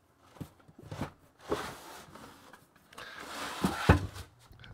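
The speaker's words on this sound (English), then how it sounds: "That's the sound of an apple box." An apple box, a wooden film-set crate, knocked about and set down, giving a handful of hollow thuds and scrapes close by, with the loudest knock near the end; no one speaks.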